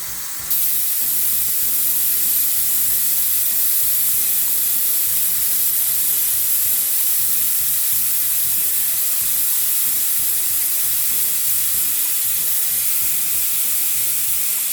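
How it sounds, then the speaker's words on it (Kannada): A pressure cooker holding green chicken pulao vents steam in a loud, continuous, high-pitched hiss that holds steady for about fifteen seconds, with no talk. "ಕುಕ್ಕರ್ನ ಕ್ಲೋಸ್ ಮಾಡಿ 3 ವಿಷಲ್ ಹೊಡಿಸ್ಬಿಡೋಣ"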